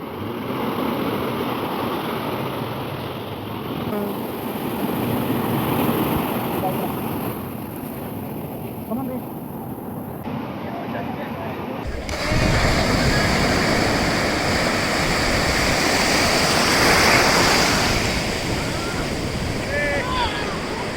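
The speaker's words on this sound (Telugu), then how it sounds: "అలలైతే చాలా ఎక్కువొస్తున్నాయి. సౌండ్స్ అయితే చాలా ఎక్కువగుంది." Strong ocean surf pounds a Goa beach at Baga, a continuous loud wash of breaking waves with wind rumbling against the microphone, and the roar grows heavier partway through.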